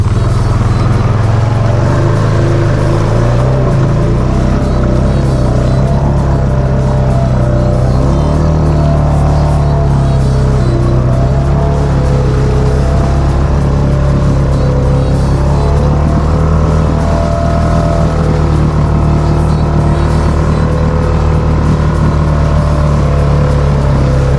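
A Honda Foreman ATV churns through deep mud, its engine loud and close in a constant drone, pitch shifting slightly as the revs rise and settle over the long run.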